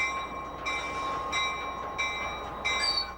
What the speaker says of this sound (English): The newest locomotive on the line is the EMD GP38, built in 1980 for the ANNR.